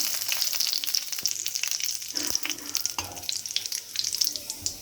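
Cumin seeds and bay leaves fry in hot oil in a pan, a close crackling sizzle with scattered pops and stirring scrapes, fairly quiet and without speech.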